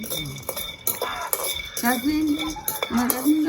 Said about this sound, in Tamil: முதல்ல கச்சான வறுப்போம் கச்சான கூடக்கா கச்சான வறுத்துட்டு பார்ப்போம்